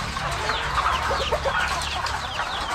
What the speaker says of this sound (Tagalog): hilig natin mag-alaga ng mga live chicken